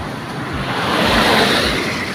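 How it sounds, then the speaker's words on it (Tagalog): Steady broadband rush of river water, loud and continuous with a slight swell in the middle, a strong current pouring past close by beneath a bridge. "grabe yung current ng tubig"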